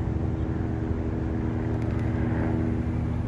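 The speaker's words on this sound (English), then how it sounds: "And I hear a helicopter en route." Steady low engine drone of an approaching helicopter over East Oakland, constant in level throughout, with no voices.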